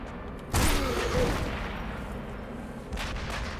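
Two sharp pistol shots ring out in Sniper Elite V2 Remastered, the first loud with a long booming decay and a second, softer report a couple of seconds later.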